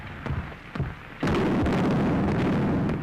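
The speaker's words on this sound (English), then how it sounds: "The stupid field artillery. They're shooting the wrong way." Field artillery firing in the distance, a few dull thuds followed by a sudden loud, sustained roaring blast that carries on to the end.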